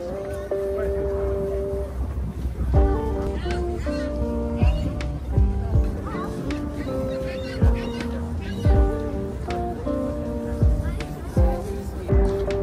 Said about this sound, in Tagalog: Ayun yung mga ibon na yun.